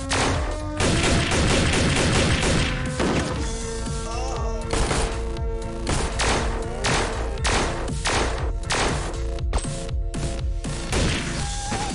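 Dense automatic gunfire rattles continuously in the Xpiratez strategy game as a friendly unit takes a heavy burst of rounds, with sharp impacts and thuds layered over sustained loud shooting and no talk.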